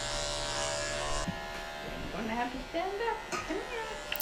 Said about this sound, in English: Just going to shave off all the hair underneath.